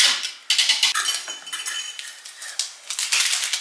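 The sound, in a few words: whisking sugar into milk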